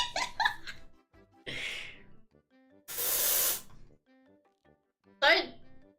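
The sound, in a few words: deodorant aerosol spray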